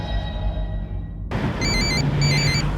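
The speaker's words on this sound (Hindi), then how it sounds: "मैडम जी किसी का फोन आ रहा है।" A background hum cuts off abruptly, then an electronic phone ringtone chimes in repeated tonal pulses, fairly close and clear.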